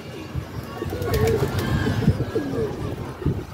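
Pigeons cooing at a rooftop loft, several soft rolling coos repeating close by over a busy outdoor background, with a faint voice now and then.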